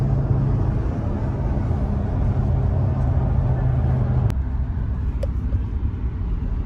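A 2022 Audi RS3 drives in sport mode with paddle shifters, its engine a steady low drone from the cabin. A sustained low tone drops away partway through, as after a gear change, and a faint tick follows.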